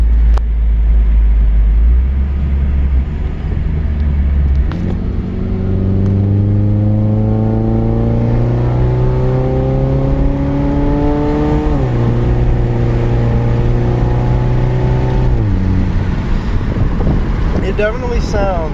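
2015 Scion tC fitted with Weapon R headers, its engine revving up through gears in rising sweeps with shifts between them, loud and steady under heavy wind buffeting on the microphone.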